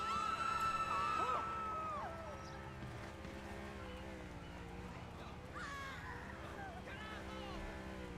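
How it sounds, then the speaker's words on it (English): Boat engine in the GTA 5 video game, a continuous low droning motor hum heard at moderate distance throughout, with bird-like caws and tonal calls layered on top. "There's something else. Like a boat or... It's making a lot of engine noise."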